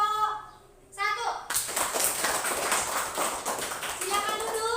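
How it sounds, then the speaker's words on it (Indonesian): Students in a classroom clap for a presenting group during a teacher's competency-exam lesson. Brief voices come first, then a dense, steady burst of hand claps fills the rest of the clip. "berikan tepuk tangan kepada kelompok 1"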